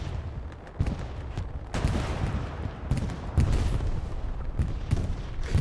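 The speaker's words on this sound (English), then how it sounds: "Katyusha strike coming in to the point." Katyusha rocket strike landing on a point in the World War 2 game Hell Let Loose, heard as a steady barrage of heavy booms and bursts in irregular succession, loud and continuous across the clip.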